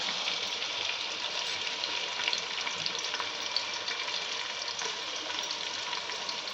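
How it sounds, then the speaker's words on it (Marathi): Onion and garlic sizzling steadily in hot oil for a crab curry, a constant crackling hiss with no voices. "थोडंसं भाजून घेते लालसर होईपर्यंत कांदा आणि लसूण"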